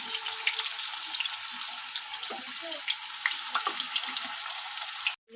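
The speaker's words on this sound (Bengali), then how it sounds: "চলো প্রথমে আমি মিষ্টি আলুটা ভেজে নিই। মিষ্টি আর আলু একসাথেই দিয়ে দিই।" Sweet potato and potato pieces fry in hot oil in a pan for a Bengali shukto, giving a steady close crackling sizzle that runs unbroken until a sudden stop.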